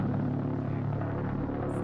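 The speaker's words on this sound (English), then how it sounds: "so we can actually hear the sound of the doodlebug now" A V-1 flying bomb recording: a steady, pulsing pulsejet engine drone with a buzzing, throbbing rumble, continuous and unchanging for a couple of seconds.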